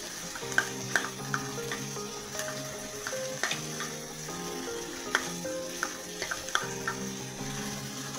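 Tomato sauce hitting a hot pan during the cooking of chilli paneer, a steady sizzle of frying with scattered scraping and stirring clatter, near and moderately loud, under quiet background music.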